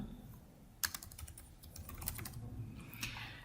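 Typing on a computer keyboard while writing in Word: quiet, irregular key clicks in short bursts, with a sharper tap near the start, close and alone.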